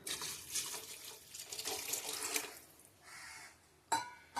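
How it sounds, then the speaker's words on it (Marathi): Water runs and splashes steadily, as if poured from a tap into a cooking pot of crab curry, fairly quiet and with no voices. "जरासं अजून पाणी घालूया."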